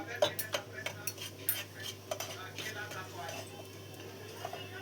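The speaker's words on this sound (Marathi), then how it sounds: "हे ज्वारीचं पीठही आपण थोडंसं सुनेरी भाजून घेऊया।" Sorghum flour dry-roasting golden in a pan, stirred with repeated clinks and scrapes of a utensil against the metal, over a steady low hum.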